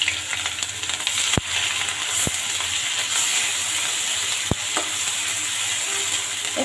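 Onion, garlic and ginger paste frying in hot mustard oil in a kadai, a loud steady sizzle and hiss with a few sharp clicks of the stirring spoon against the pan, close up and without voices.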